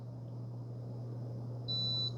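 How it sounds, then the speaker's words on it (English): An Instant Pot Vortex Plus 6-quart air fryer gives a single clear, high electronic beep near the end, over a steady low hum. "It says 1 beep is temp Celsius, 2 beeps is Fahrenheit."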